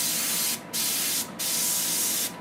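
An airbrush sprays purplish blue paint in a steady close hiss, broken by two brief pauses as the trigger is released and pressed again.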